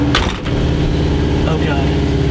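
A Subaru WRX engine cranks and catches, then settles into a loud, rumbling idle close by, with a brief voice at the start.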